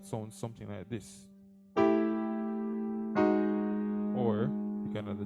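A piano sounds a tritone substitution in place of a 2-5-1 in G as two long sustained chords, close and moderately loud, after a brief spoken lead-in, with a voice briefly returning near the end.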